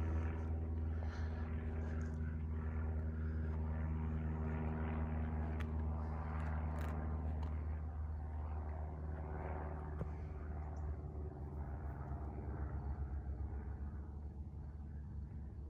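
A propeller plane passes overhead along the coast at Conomo Point in Essex, Massachusetts, a steady low droning rumble that fades slowly, heard from a distance with no talk.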